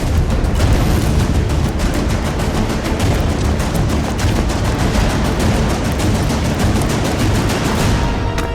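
Rapid bursts of gunfire in a Hindi TV crime drama chase scene, loud dense repeated shots running continuously over a busy background with no clear talk.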